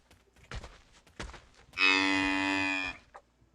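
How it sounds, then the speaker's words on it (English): A Cape buffalo in the video game The Great Circle gives one long, loud, close moo, preceded by soft game footsteps and rustling. "That one sounds a little more like a domestic cow, but the first one was decent."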